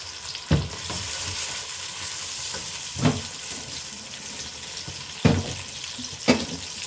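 Ground spices, cumin, coriander, garam masala and turmeric, frying in a pan for haleem, with a continuous close sizzle and four distinct bursts of stirring and scraping spaced a second or two apart.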